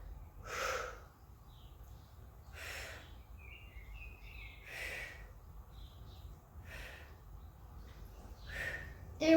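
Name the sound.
breathing in and out during exercise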